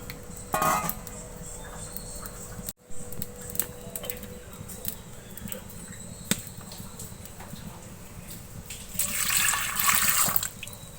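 Water is poured into a clay cooking pot while aviyal is being made. Quiet kitchen noise gives way to a short, rushing pour near the end.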